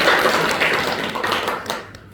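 A church congregation claps for a few seconds, a burst of dense, fairly loud hand claps that thins out toward the end.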